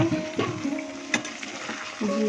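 Paneer with milk stir-fried in a pan sizzles steadily while a spoon scrapes and stirs in a few distinct strokes, close and clear with no talking.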